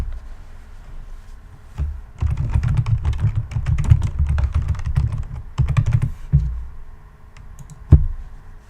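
Rapid keyboard typing clatters in close bursts, pausing briefly midway, then resuming before a few final isolated key taps.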